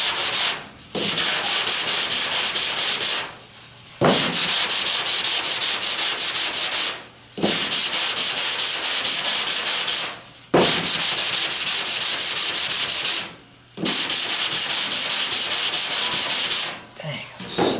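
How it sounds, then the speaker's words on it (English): Hand block sanding on the fender of a 1977 Camaro Z28 during body work, loud rhythmic abrasive rasping in long strokes of about three seconds each, with brief pauses between passes. "if I sand it right here, it's going to always show a high spot"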